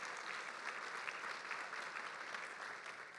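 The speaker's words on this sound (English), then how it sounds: "Let's give everybody another round of applause" Audience applause at a homelessness-focused charity luncheon, a broad, continuous patter of many hands from a large room, soft and even across the whole stretch with no speech over it.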